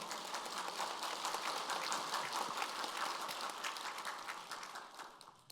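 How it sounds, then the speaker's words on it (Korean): A church congregation applauds together in a dense, sustained patter of many hands that holds steady for several seconds before tapering off. "우리 주님께 박수로 영광 돌리겠습니다."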